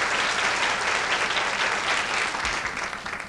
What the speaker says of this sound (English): ought to give a nice round of applause.